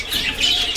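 English budgies in a flying cage at a backyard nursery, giving a brief burst of high chirps with a rustle of wings, close and fairly loud.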